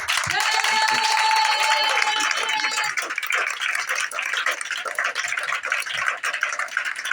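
A church congregation claps to acclaim Jesus, a dense, steady patter of many hands filling the room, with a voice speaking over the start before the clapping carries on alone.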